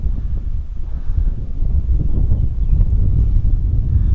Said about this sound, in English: It's a little bit windier today than it was supposed to be.